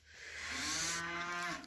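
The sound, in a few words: cow mooing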